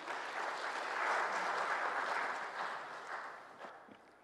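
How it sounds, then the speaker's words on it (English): A sustained round of applause from a crowd at a New Year ceremony for ambassadors with Tanzania's President Samia, steady and dense, slowly tapering off toward the end. "a round of applause to him"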